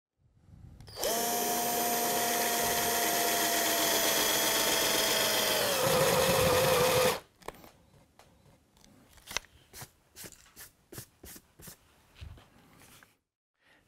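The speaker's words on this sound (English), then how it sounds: "So I'm going to use my 22mm spade piece." A 22mm spade bit in a power drill bores a hole through engineered wood or laminate flooring: one continuous loud whine for about six seconds that drops in pitch as the bit bites, then stops, followed by a series of sharp taps and knocks.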